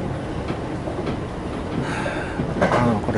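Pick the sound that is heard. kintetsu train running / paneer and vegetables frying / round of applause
kintetsu train running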